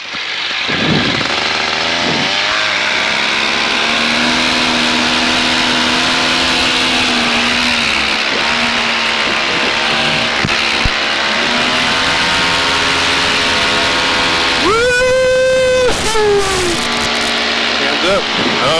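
A paramotor engine at steady high throttle drones loudly and close for a takeoff, then climbs sharply in pitch near the end as the throttle rolls on further, under the pilot's occasional talk and wind buffeting.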